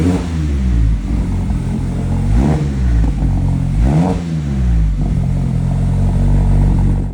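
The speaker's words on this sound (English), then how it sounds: "The previous owner left a wonderful aftermarket exhaust on it, and it sounds phenomenal." A 2021 Mazda Miata MX-5 RF Club with an aftermarket exhaust revs loudly and close, its engine note rising and falling through several throttle blips over a steady idle.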